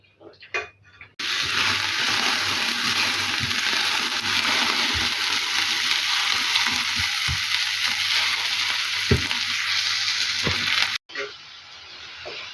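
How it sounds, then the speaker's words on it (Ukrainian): A steady, close sizzle of onions frying in a pan, with a few soft clinks and taps before it stops abruptly. "І далі ми відправляємо на пательню смажити цибульку."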